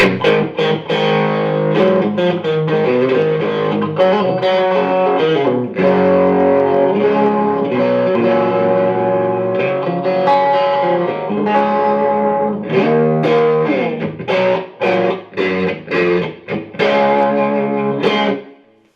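Heavily distorted electric guitar through a Rat-style distortion on a TC Electronic Nova System, playing chords and riffs, thick and saturated with gain, loud and continuous before cutting off at the end.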